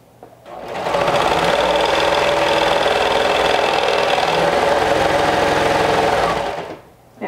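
A sewing machine stitches overalls, running steadily for several seconds, a continuous whirring mechanical drone that starts and stops cleanly with no talking.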